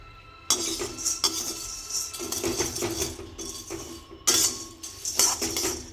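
Pumpkin and sunflower seeds dry roast in a pan, with close, bright rattling and clinking as the hard seeds are tossed and stirred against the metal in bursts.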